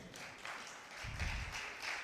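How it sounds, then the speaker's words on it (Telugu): Faint audience applause at a Christian song event: a soft patter of many hands clapping from a distance, thickening with a low rumble midway through. "చప్పట్లు తప్ప నాకేం వినబట్టలేదు అసలు"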